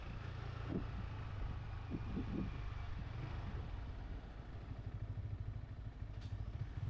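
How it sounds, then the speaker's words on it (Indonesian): A motorized rickshaw (becak motor) rumbles along a village road near Lake Toba, its low engine drone steady and fairly close with light clatter and wind noise throughout. "Ada becak motor teman-teman"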